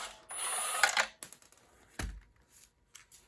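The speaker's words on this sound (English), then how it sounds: "let's use the bolt drive automatic to get that off" An automatic bolt driver whirs and rattles briefly while taking the recoil starter off a Honda pressure washer, followed by scattered metallic clicks and a dull knock from the workbench.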